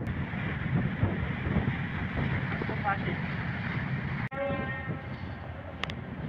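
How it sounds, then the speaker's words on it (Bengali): Passenger launch cruising along the Tetulia River, its engine giving a steady low rumble with wind and water wash. A brief sharp click comes partway through, and faint voices sit under the noise. "লঞ্চ তেঁতুলিয়া নদীর পাড় ধরে চলছে।"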